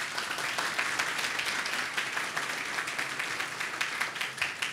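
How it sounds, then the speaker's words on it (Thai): An audience at a large training event claps continuously, a dense, even wash of many hands that holds steady throughout. "ขอเสียงปรบมือ"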